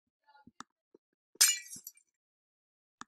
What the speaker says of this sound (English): It sounds like glass breaking.